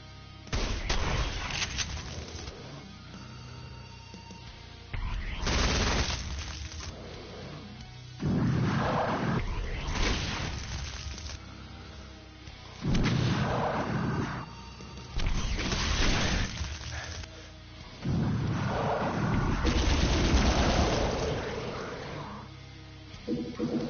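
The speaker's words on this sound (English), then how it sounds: "They're known as chain gunners and all that, but if you know your Doom sounds, it actually sounds like a fucking automatic shotgun or something." Chaingunner fire in the video game Doom, sounding like an automatic shotgun, crashes out in loud, rapid bursts of booming shots separated by short pauses, repeating throughout.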